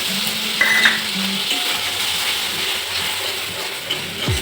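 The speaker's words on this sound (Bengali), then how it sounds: "লঙ্কা চেরাটা দিয়ে দেবো এদিকে পোস্ত বাটাটাও দিয়ে দেবো" Slit green chillies and poppy seed paste sizzle in a pan for dudh shukto, a steady close frying hiss with a few faint clinks and stirring scrapes, no voices.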